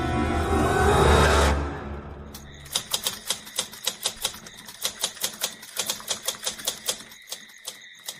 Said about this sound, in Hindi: टाइपराइटर की बटन दबने की आवाज सुनाई दे रही थी।